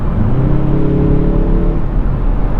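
A Mazda 3 Sport GT engine rises in pitch under hard acceleration on a freeway, a brief steady climbing whine over road and wind rumble, close and loud with no talk.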